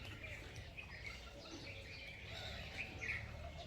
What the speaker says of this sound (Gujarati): કાચ ઉપર આવી ગઈ ચકલીઓ જુઓ